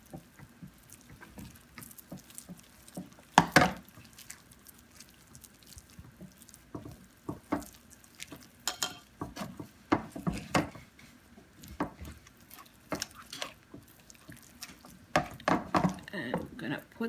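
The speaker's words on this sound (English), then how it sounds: "You just want to mix it up really well." A spoon mixing mashed banana and chia seeds into a spread, producing irregular soft scrapes, wet taps and clacks against the bowl, with occasional louder clusters of strokes.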